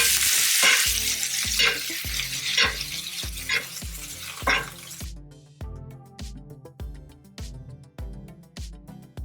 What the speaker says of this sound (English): Now I'm going to start basting the steak.